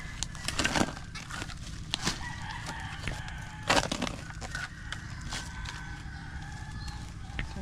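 A rooster crows amid nearby clucking fowl, with a few scattered louder calls over a steady outdoor background.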